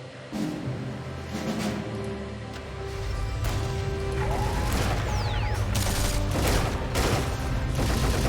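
Three guns open fire together in the Axis & Allies 2004 real-time strategy game, a dense crashing volley of shots and booms building over several seconds, loud and continuous with a mechanical whine sweeping through the middle.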